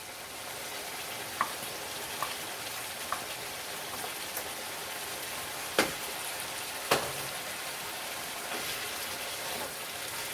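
Ground beef and diced yellow onion fry in a pan with a steady, quiet crackling hiss, punctuated by a few sharper pops, no voices.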